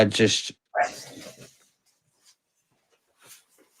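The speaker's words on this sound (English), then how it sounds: "My dog's just fucking kicking off." A dog lets out a couple of loud, close barks, then gives faint whimpers, with a person's voice also present.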